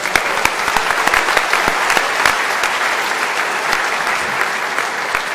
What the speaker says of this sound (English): So let's get a round of applause.